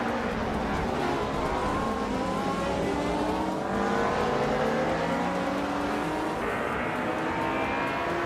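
Racing car engines, including a Lancia Delta S4, roar in a racing video game, several close, loud engines rising and falling in pitch as they rev and accelerate continuously, with no talk.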